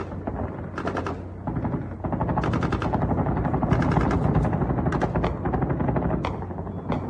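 Anti-aircraft tracer guns firing at night in long rapid bursts, heavy rattling volleys that repeat and overlap at a distance over a low rumble, with no talking.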